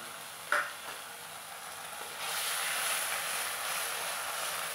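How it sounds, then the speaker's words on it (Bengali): Oil frying in a pan for a hilsa fish curry, a sharp clink then a steady hiss of sizzling that swells louder partway through and continues alone. "আগে তেলটা ভালো করে ভেজে নেব।"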